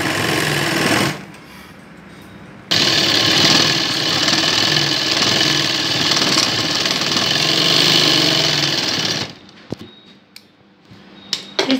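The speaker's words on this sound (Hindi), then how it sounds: "अब हमें पहले मोरी पे सीधी सिलाई लगानी है।" A sewing machine runs a straight seam on a child's Afghani salwar, starting after a short pause and humming steadily and loudly for several seconds before stopping, followed by a few light handling clicks.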